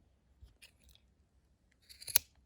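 Scissors snip yarn tufts on a crocheted owl tablet case: a few faint, sparse snips early, then one sharp, close crunching cut near the end, against near silence.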